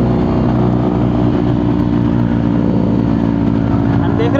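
Harley-Davidson motorcycle engine riding in first gear, a steady dense low rumble and thump held close and loud throughout, with no distinct separate exhaust pops standing out.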